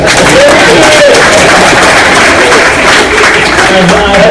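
An audience at a talk gives a loud, dense round of applause, steady and close throughout, with crowd murmur and voices mixed in.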